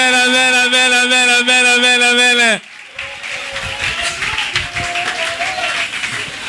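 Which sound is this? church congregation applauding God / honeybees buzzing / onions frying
church congregation applauding God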